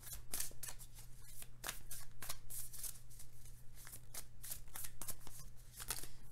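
Tarot cards being shuffled and handled close up, with a rapid run of riffling, papery flutters and soft snaps in uneven bursts, fairly quiet over a low hum.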